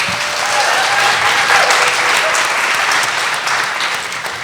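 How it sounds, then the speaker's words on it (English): Audience clapping at a panel event on African cosmologies, a steady, full round of applause from a crowd that holds at a consistent level throughout. "please give them a round of applause"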